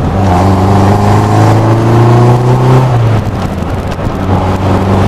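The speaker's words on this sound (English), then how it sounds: "Listen to that exhaust" Lotus Elan Sprint exhaust droning steadily while driving on country roads, a loud close engine tone holding then dropping in pitch as the car eases off, with wind and road noise throughout.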